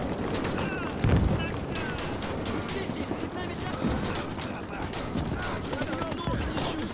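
Rifle and machine-gun fire crackle in rapid, overlapping bursts during a World War II battle in the game Gates of Hell, with a dense, busy combat din and a louder close shot early on.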